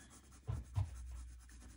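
A pencil makes a few faint, short scratching strokes while drawing foliage on paper during a mixed media landscape sketch of Tuscany. The strokes are close and very quiet.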